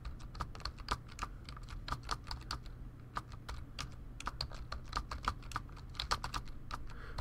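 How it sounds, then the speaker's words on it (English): Fingers type on a well-worn computer keyboard with squishy keys, producing rapid irregular clicks in quick bursts with a brief pause midway, close and fairly soft with no voices. "Keyboard keys are getting a little squishy because this is a well-worn keyboard."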